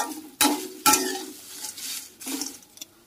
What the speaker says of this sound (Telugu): కొంచెం 1-2 నిమిషాల పాటు ఇలా వేయించేసుకుందాం.